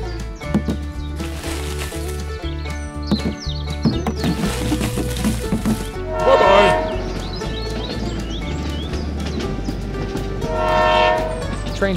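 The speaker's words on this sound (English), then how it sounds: "Wonder what's waiting for the train." A train rumbles past with rhythmic clatter and a loud, sustained horn blast, then a second horn sounds later over the continuing rolling noise.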